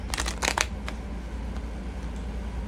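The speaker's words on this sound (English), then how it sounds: "his cards don't want to shuffle" A quick burst of riffling tarot card shuffles at the start, followed by a few soft taps against a quiet background hum.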